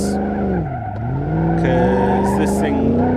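The engine of an Oldsmobile Regency 4x4 in BeamNG.drive revs loudly up close, the pitch dipping and then climbing as the throttle is pressed, with faint tire squeal over the drone.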